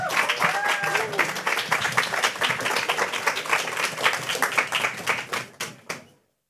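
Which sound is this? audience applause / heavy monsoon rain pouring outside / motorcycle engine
audience applause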